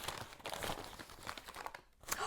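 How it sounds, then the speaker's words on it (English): Fruit such as apples being unwrapped from individual paper or plastic wrapping makes faint, close crinkling and rustling in quick irregular bursts, with a short pause near the end. "Is it fun to watch me unwrap individual apples?"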